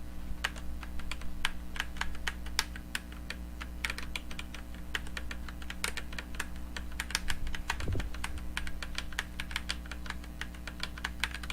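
Steady, rapid typing on a mechanical keyboard at a desktop PC: dense, crisp key clicks continue for over ten seconds over a constant low computer hum.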